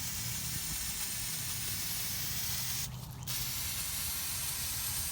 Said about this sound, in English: We're going to get to spraying and get this rim clean.